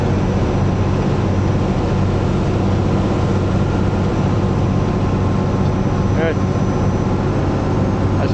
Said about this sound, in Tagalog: maingay yung makina, nasa likod tayo eh.